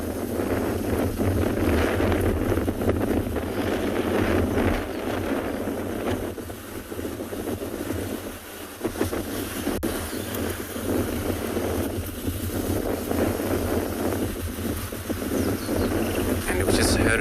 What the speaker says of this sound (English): It's wind already picking up.